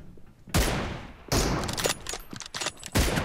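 Gunfire in the mobile battle-royale game PUBG Mobile: three loud, sharp shot bursts with ringing tails, spaced about a second apart, nearby and dominant with no talk over them.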